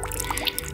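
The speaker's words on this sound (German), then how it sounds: "Und oh, laufendes Wasser." Running water trickles and drips outdoors on a winter hike, a steady close liquid patter with small bright splashes, heard alone over a brief moment.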